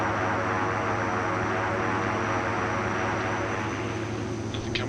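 A steady, droning aircraft engine in the X-Plane 11 flight simulator, loud and continuous with a constant hum and no noticeable change in pitch.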